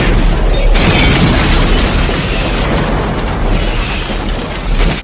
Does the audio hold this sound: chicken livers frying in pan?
no